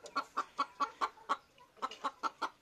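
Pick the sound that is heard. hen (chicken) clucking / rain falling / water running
hen (chicken) clucking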